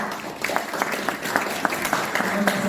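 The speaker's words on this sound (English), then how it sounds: "Please give a big round of applause." A seated audience applauds to welcome a judge at a storytelling competition. The clapping is steady and moderately loud, with scattered sharp individual claps across the whole stretch and faint voices underneath.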